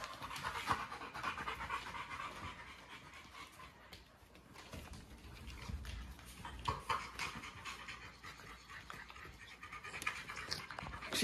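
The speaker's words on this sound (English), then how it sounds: "This puppy right here is supposed to be 10 weeks old." Rapid, steady panting from a 10-week-old puppy, heard close and fairly loud for the whole stretch, with a brief whimper or two and no talking over it.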